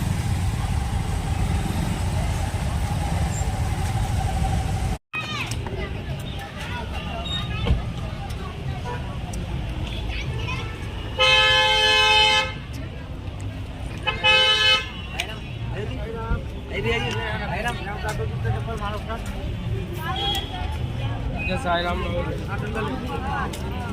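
Busy road traffic near the Sai Baba temple on Lodi Road, with a steady engine rumble, two separate bursts of loud car-horn honking, and people talking over it.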